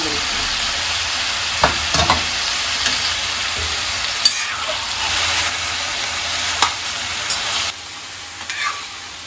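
Cut broccoli sizzles in a hot pan, its steady frying hiss broken by scraping stirs and occasional sharp clinks of a spoon against the metal, with no talking.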